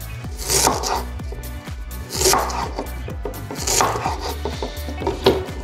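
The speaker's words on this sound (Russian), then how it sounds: "Морковь нарезаем тоньше, чем остальные овощи" A kitchen knife slices carrots thinly into rings for ratatouille, with crisp, regular chopping strikes hitting the cutting board about every half second, each with a woody thunk, close and clear with no speech.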